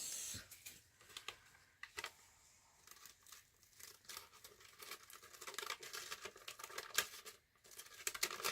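Scissors cut through material for a resin night-light project, quiet snipping and crinkling close by, irregular and faint with no talk.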